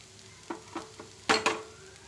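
A stuffed idli filling with chili powder added in a pan, a faint low sizzle broken by about five soft stirring scrapes, the last two louder.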